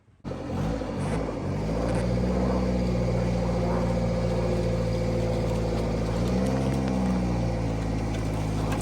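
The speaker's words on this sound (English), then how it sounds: "We used an interesting tow vehicle, so I'm gonna add it to this video right now." Tow vehicle moving a 1966 Mustang GT Fastback, its engine rumbling steadily and loud after a quick start, with the low drone swelling briefly near the end as it revs.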